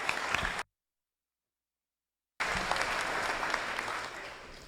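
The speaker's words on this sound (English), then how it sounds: "So if we could give them a round of applause" Wedding guests give a round of applause during the toasts, a dense burst of clapping that cuts out briefly before resuming full and steady, slowly easing toward the end.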